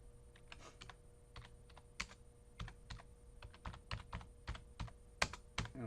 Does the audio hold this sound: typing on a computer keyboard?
yes